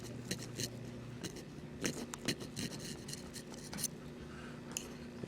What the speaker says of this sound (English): Now I'm just scraping the sides of the reed.